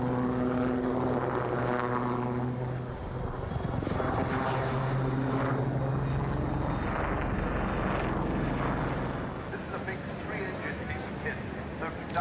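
A Lynx naval helicopter performs a violent manoeuvre at the RIAT air show at RAF Fairford, its rotor and engine roaring loudly and continuously at a distance, with faint crowd and commentary sounds mixed beneath.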